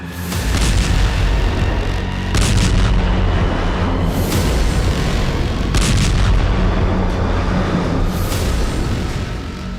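Artillery fire and explosions from the Russia-Ukraine war boom repeatedly, with loud heavy blasts landing every few seconds over a constant rumbling din.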